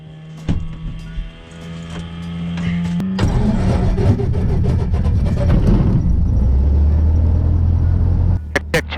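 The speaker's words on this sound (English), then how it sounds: "let's see if we can't get this engine started" A small aircraft piston engine cranks, then catches around three seconds in and settles into a loud, steady rumbling idle, with a brief shift near the end.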